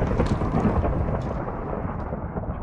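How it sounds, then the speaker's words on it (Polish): Thunder rumbles through a storm in Minecraft, a loud, sustained low roll with rain hiss that slowly fades over a couple of seconds, with no voices. "Znowu piorun, kurde, nienawidzę takiej pogody."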